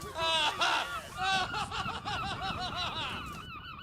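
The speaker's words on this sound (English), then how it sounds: "Hear that seagull laughing? Yeah, I think that seagull is laughing at me." Seagull calls with a laughing quality, a rapid run of repeated squawks near and fairly loud, blended with other voices and background chatter.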